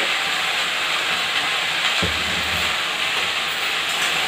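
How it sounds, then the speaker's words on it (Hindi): Taro (arbi) pieces hit hot oil in a home kitchen pan, setting off a steady, loud sizzling hiss that runs throughout, with a brief low thump as they drop in. "मेरा तेल गरम हो गया है, इसमें मैं अरबी डाल देती हूँ।"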